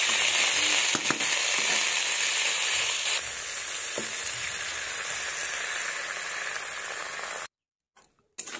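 A little water hits beans frying in a pan, bursting into a loud hissing sizzle with a few sharp crackles, steadily fading before cutting out into silence near the end.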